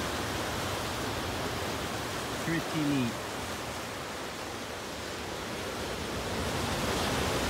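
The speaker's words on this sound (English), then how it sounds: "the waves crashing up against the rocks as they come in is pretty neat" Ocean waves crash against the rocky coast at Puerto Escondido, a steady, dense roar of surf that fills the whole stretch, with a person speaking briefly over it.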